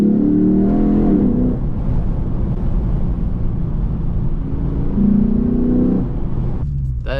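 Lexus IS F engine heard from inside the car with the windows cracked: a steady, loud rumbling drone with intake induction roar rising in two rev swells, close and continuous with no voices.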